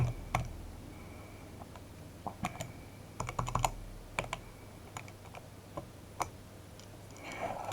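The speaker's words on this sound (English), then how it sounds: "I'm going to type in tan to the minus 1." Calculator keys pressed one at a time in a quiet room, a series of sharp, light plastic clicks at an irregular pace with short pauses between presses.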